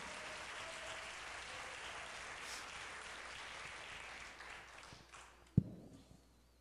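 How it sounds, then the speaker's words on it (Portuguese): A church congregation applauds in a soft, even wash of clapping that fades out toward the end, where a single sharp knock stands out. "Quem crê nisso, deu uma salva de palmas para o Senhor Jesus."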